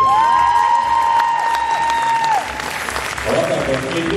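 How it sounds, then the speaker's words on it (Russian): An audience at a student debut show for a physical education faculty applauds loudly while a host's voice carries over the clapping, and a musical tone rings through before the applause thins out. "Аплодисменты!"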